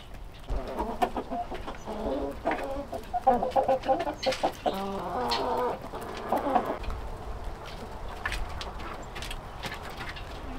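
Several homestead chickens cluck and chatter nearby, with a burst of louder, more insistent squawking in the middle over a soft rustling background.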